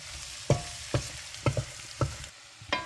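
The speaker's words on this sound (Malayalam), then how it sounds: "ഇനി ഇതിനെ നമുക്ക് നല്ലതായിട്ടൊന്ന് പുരട്ടിയെടുക്കണം." Beef dry fry coated in masala stirred in a pan, with six or seven distinct spatula scrapes at a steady rhythm over a soft continuous sizzle, close and fairly loud with no voices.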